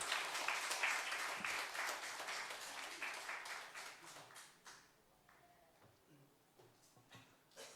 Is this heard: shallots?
no